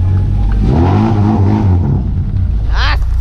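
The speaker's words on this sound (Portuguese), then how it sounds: "E o escape? Dá uma esticadinha" A lowered Volkswagen Voyage on air suspension with a straight exhaust revs loudly and close, its deep engine roar swelling and holding steady throughout.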